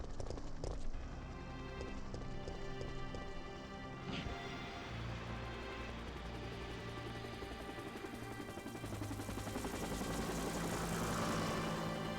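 A rescue helicopter arriving, its rotor drone building steadily from faint to a louder, fuller whir over about twelve seconds, with no talking.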